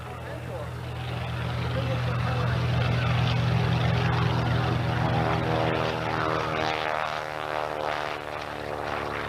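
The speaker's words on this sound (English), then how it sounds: "That is one big airplane." A large propeller airplane drones loudly overhead at the 1990 Atlantic City Air Show, its deep throbbing engine hum swelling and shifting in pitch as it passes, with some voices underneath.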